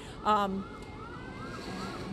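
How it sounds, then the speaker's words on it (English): An ambulance siren wails in repeated sweeping cycles as it tries to get through flooded, stalled traffic near the Pontchartrain Expressway, following a short horn-like blast and set against steady outdoor rumble. "there is an ambulance that's trying to make its way through"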